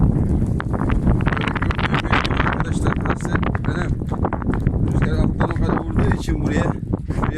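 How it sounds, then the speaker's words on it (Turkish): Strong storm wind in snowfall roars and buffets the microphone continuously, loud and gusty throughout with no pauses. "Rüzgar da böyle esiyor. Estir püstür fırtına."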